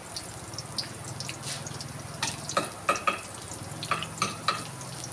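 Garlic and shallots fry in oil in a Thai Shan-style kitchen, a steady crackling sizzle with repeated sharp utensil taps and scrapes against the pan.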